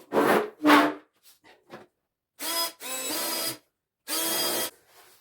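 Drill boring pilot holes through timber for wall panels, several short separate bursts of whirring and grinding with brief quiet gaps between them, close and fairly loud.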